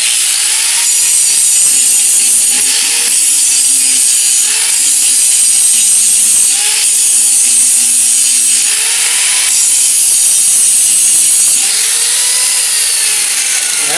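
An angle grinder takes down the rakers on a chainsaw chain, making loud, harsh grinding passes that repeat roughly every two seconds against a constant high hiss, with no voices.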